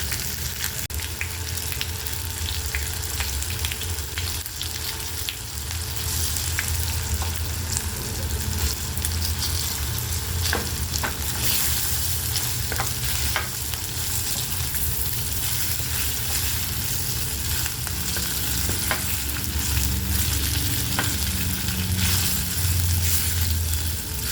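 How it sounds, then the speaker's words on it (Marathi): Bottle gourd muthiya frying in a pan with masala, a loud continuous close sizzle with occasional stirring scrapes, and no talking. "या पद्धतीने थोडे फ्राय करून घ्यायचे आहेत ते म्हणजे हा मसाला सगळीकडे लागेल त्याला"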